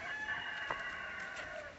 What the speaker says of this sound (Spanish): le cantó el gallo